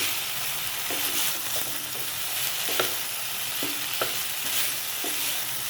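Raw banana pieces with turmeric stir-fried in a pan, a steady close sizzle broken by repeated scrapes and clicks of a spatula against the metal, no voices.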